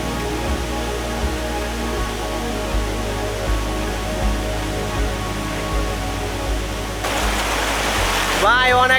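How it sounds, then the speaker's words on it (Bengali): Fast-flowing water at Khoiyachora waterfall in Mirsarai roars steadily as a loud, continuous rushing wash, with a few low thumps and a brief rustle near the end. "পানির যে স্রোত আমার পিছনে দেখা যাচ্ছে এদিক দিয়ে পানিটা একদম সোজা নেমে গেছে একদম স্পিডে"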